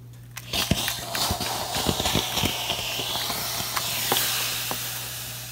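Steam hisses in short bursts over a pinned crochet table runner, with a steady background hum and intermittent soft taps and clicks from the steamer, close and moderately quiet.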